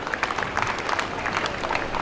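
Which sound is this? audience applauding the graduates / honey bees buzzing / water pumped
audience applauding the graduates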